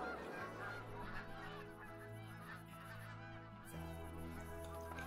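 Canada geese honk in the hunting video game Call of the Wild: repeated nasal honks from several birds over a steady low outdoor rumble, at moderate distance and fairly quiet.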